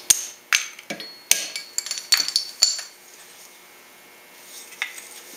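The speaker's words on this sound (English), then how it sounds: "And I have to use my cutoff hardy on my anvil." A hammer strikes metal on a cutoff hardy set in an anvil at a homemade forge, several sharp ringing clanks in an uneven cluster over the first few seconds, then near quiet with one last faint clink.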